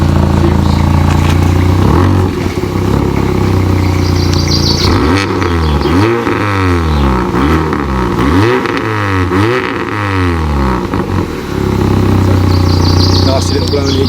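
A car engine with a badly rusted, blowing exhaust revs up and down several times over a rough idle, loud and close, with a chuffing leak mixed into the engine note.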